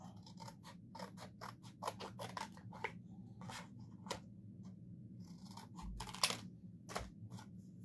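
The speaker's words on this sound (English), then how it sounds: "So let me cut this out." Scissors snip through paper while cutting out a piece for a junk journal, a quick run of crisp, close cuts in short bursts with brief pauses, over a low steady room hum.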